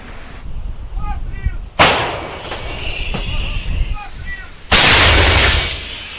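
Two heavy blasts from self-propelled howitzer artillery on the Bakhmut front boom close by, each a loud roaring burst that lingers, with faint voices and background noise between them.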